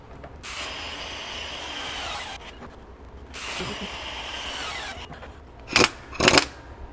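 Myers MTS53371 air impact wrench running at 800 foot-pounds, two long loud hissing bursts of air and hammering, then two short sharp blasts close by.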